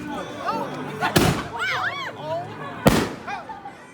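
Two loud New Year's Eve firecrackers burst about a second and a half apart, sharp broadband cracks among distant fireworks whistles and pops, with people talking nearby.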